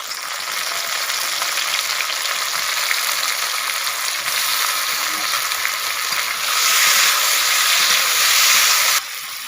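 Tomatoes frying in a hot pan for a tomato curry give a loud, steady, close hiss and sizzle. It swells a little near the end, then drops off abruptly, with no talking.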